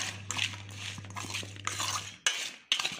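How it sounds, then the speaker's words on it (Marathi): Carrot pickle with jaggery and a spoon of lemon juice being mixed in a bowl, producing close scraping and stirring strokes in a few bursts with a low steady hum underneath. "तर हे सर्व असं छान मिक्स करून घ्या"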